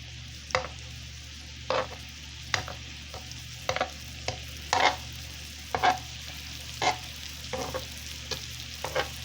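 Onions fry in a pan with a steady low sizzle, broken by regular scraping stirs that come roughly once a second, close and clear, with no talking.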